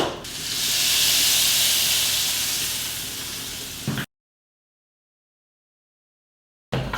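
A knob of butter hits a hot roasting pan with beef juices and sizzles in a loud, bright hiss that swells and then eases, cutting to silence after about four seconds before a short burst returns at the end.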